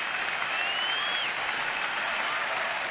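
A large baseball stadium crowd of about 28,000 applauds and cheers a double play in a steady, dense roar that fills the whole clip, with a faint whistle rising above the noise.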